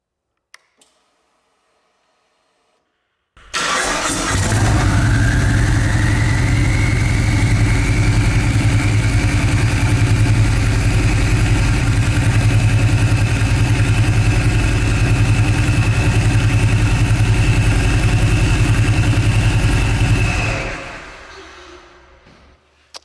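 A turbocharged 2021 Harley-Davidson Road Glide fitted with a large CMP turbo fires up after a short silence and settles into a loud, steady, rumbling idle. A rising turbo whine sits on top, and the engine cuts off near the end.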